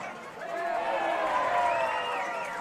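Softball crowd at a Class 1A state championship game reacting to a catch, a sustained swell of cheering and shouting from the stands that builds and holds steady over about two and a half seconds.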